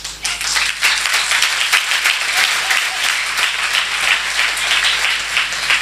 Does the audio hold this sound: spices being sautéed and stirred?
no